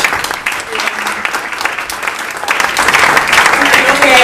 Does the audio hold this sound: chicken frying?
no